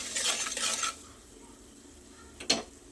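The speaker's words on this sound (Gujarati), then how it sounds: "હવે બધું સરસ મિક્સ કરી લઈએ" A spoon scrapes and stirs turmeric and spices in a pan for about a second, then a quiet pause and one brief clink or scrape.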